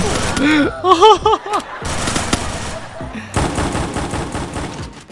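Rapid bursts of gunfire from a shooting video game, a ranked random-squad match, crack out in quick clustered volleys and go on steadily toward the end, with a player's voice mixed in at moments.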